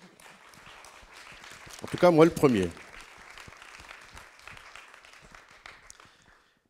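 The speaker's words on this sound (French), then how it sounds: "Je pense qu'on peut même applaudir." At a regional French television event, an audience's applause runs as a soft, steady patter of clapping beneath someone speaking, swelling briefly when he raises his voice, then fading out.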